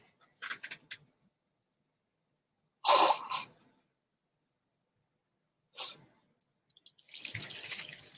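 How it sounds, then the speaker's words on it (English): A person sneezes several times in a quiet room, with sharp, loud bursts spaced a few seconds apart and near silence between them. "I gotta sneeze again."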